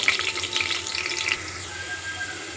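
Onions fry in hot oil in a home kitchen, giving a soft, steady crackle and sizzle with brief brighter spatters in the first second before settling to a quieter hiss.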